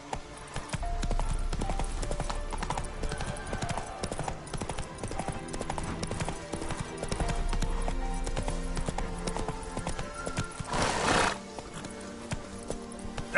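Hooves of Roach, a horse in the video game Witcher 3, clip-clop steadily through a busy, dense game soundscape with other layered effects, with a brief louder burst near the end.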